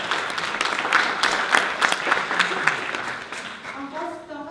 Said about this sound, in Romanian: Vă rog, aplauze!